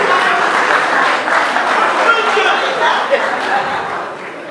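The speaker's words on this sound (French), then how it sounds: "Applaudissez ce couple" A wedding-ceremony audience applauds a couple, dense steady clapping with a few chuckles and murmurs, fading slightly at the end while a voice speaks over it.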